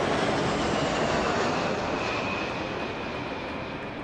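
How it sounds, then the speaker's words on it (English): An RAF RC-135 Rivet Joint, operated by 51 Squadron, flies past during a flypast, a loud broad jet roar that holds steady and then slowly fades, with no talk. "we're looking at the RC-135 rivet joint, another one of the Royal Air Force's I-Star aircraft"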